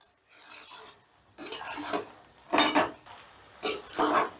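Okra and boiled potatoes stirred in a pan, a spoon scraping and rasping against the metal in three or four separate bursts with short pauses between, close and fairly loud.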